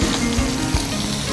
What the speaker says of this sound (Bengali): এসে তুমি প্রনটা ভেজে তোলো এবং তারপরে একইভাবে চিকেনটা ভেজে নাও।